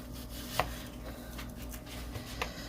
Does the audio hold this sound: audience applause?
no